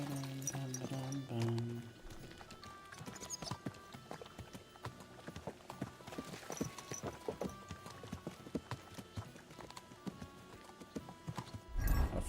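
Horse hooves clip-clopping at a steady gallop in Kingdom Come Deliverance 2, a dense rapid rhythm with an occasional whinny, close and moderately loud under game sound and music.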